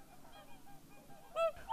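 Swans honking among migrating birds in a snowy winter region, a few faint calls at first and then a louder, nearer honk near the end, with no speech.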